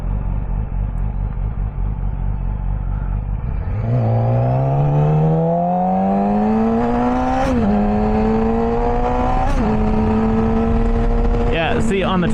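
A Porsche with a boxer engine revs up from idle, its tone climbing steadily and then rising again in a couple of further pulls, loud and close throughout and heard alone.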